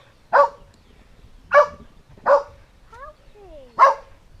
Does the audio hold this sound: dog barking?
yes